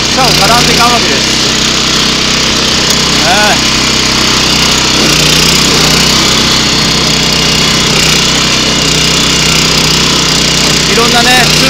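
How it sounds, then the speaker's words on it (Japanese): Mower cutting grass along a farm path, a loud steady engine drone running continuously close by with a rough, knocking tone, and a voice speaking over it. "さあ草刈りでございます。"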